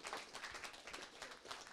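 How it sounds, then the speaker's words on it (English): Audience applause for a conference panel, dense and steady with many overlapping claps throughout, moderately distant and even in level. "Yeah, you can applaud."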